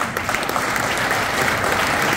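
Banquet audience at an AHEPA chapter centennial giving a loud, warm, sustained round of applause, dense and even throughout without talk.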